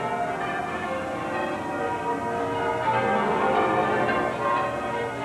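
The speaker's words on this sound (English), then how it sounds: "London was a joyous tumult of bells as churches gave thanks" Church bells peal across London in a dense, continuous clamor of many overlapping tones, moderately loud and carrying at a distance.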